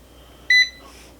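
An air fryer being set to its air fry mode lets out a single short, clear electronic beep against a quiet room.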